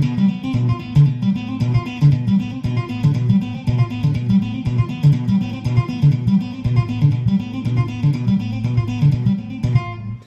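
Electric guitar loops a steady pattern of notes grouped in twos and fours, a repeating rhythmic figure with even plucks over a low pulsing line, close and moderately loud, with no talking.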